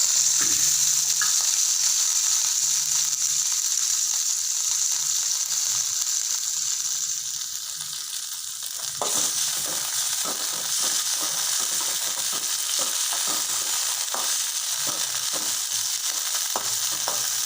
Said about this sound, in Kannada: ಎಣ್ಣೆ, ಅರಿಶಿಣ, ಜೀರಿಗೆ, ಸಾಸಿವೆ, ಉಪ್ಪು ಇವೆಲ್ಲ ಮೂರು ಬೆಚ್ಚಗೆ ಮಾಡ್ತೀನಿ ರೀ.